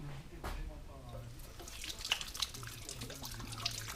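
Hands washed under a running tap after handling honey frames, a steady close trickle and splash of water with occasional drips, under quiet background sounds.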